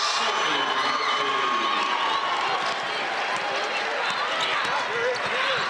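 Basketball crowd in a gym cheering a made shot, a dense continuous roar of voices and shouts at steady loudness, with an announcer talking over it.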